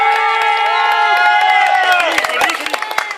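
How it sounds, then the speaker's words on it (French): An outdoor crowd at a medieval festival in Villefranche-de-Conflent gives a loud cheer during a wedding skit, with sustained shouting voices that give way to scattered claps and whoops near the end. "je vais vous demander de faire une acclamation pour ceux qui veulent qu'ils se marient"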